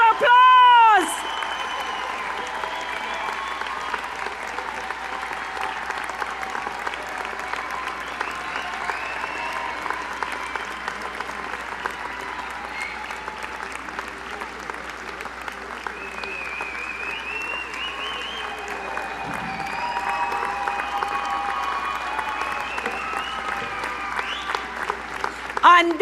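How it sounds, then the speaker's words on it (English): A large audience at a business school graduation ceremony claps in a long, sustained round of applause, dense and steady throughout, with occasional whoops and crowd noise and music or tones faintly underneath. "give those who helped you a big round of applause"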